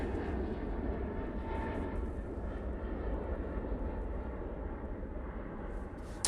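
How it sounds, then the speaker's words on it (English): A Malta Air airliner taking off at Manchester Airport, a steady broad jet roar at moderate distance that holds for several seconds and fades slightly, with no voices. "There goes the Malta Air."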